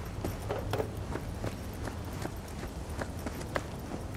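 Rhythmic hoofbeats of a horse in Cyberpunk 2077 clip-clop steadily at a moderate pace over a low continuous hum, fairly close and even in loudness throughout.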